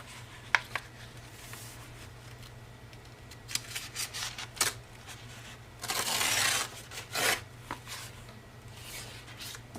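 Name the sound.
tearing pages out of a book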